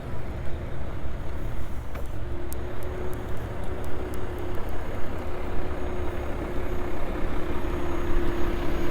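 Heavy trucks idle at a busy construction site in Regina, a steady low engine rumble with a sustained tonal hum and scattered distant clanks over the top.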